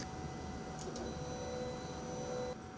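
A cutting machine's blade tracing a line through masking film in a custom paint shop, heard as a steady, continuous mechanical whir with a faint high whine that stops abruptly near the end.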